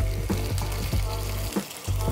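Salmon fillet laid skin-side down in a hot pan with a little vegetable oil on the stove, crackling into a loud, steady sizzle with a few sharp pops and spatters throughout.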